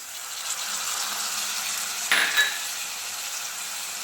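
Onions and garlic, then tomato, sautéing in a pan for a Madurai-style egg masala, a steady low sizzle with a brief clink and stir of a utensil partway through.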